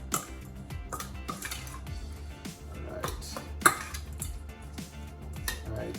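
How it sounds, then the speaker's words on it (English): A spoon clinks and scrapes in a bowl while curry is stirred into shrimp for Jamaican curry shrimp, faint light taps over soft background music. "I'm just going to use a spoon and mix this in"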